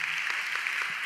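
A church audience applauding for a young adults' Sunday service's captioning, lighting and broadcast team, steady dense clapping filling the room at moderate loudness throughout.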